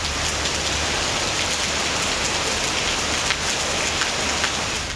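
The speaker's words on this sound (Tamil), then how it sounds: "கோவையில் கவுண்டம்பாளையம், இடையர்பாளையம், அன்னூர், சூலூர் உள்ளிட்ட பகுதிகளில் இரவு நேரத்தில் இடிமின்னலுடன் மழை பெய்தது." Heavy night rain pours down in a dense, continuous hiss, loud and steady throughout with no distinct thunder clap standing out.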